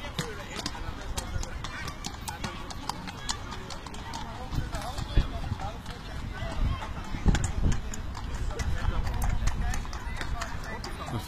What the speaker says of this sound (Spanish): Los famosos coches de caballos para turistas.